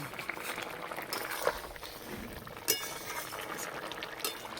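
Curry broth with fried neem leaves and bori bubbles quietly in a pan, a soft steady simmer broken by a couple of sharp clinks of a utensil against the metal.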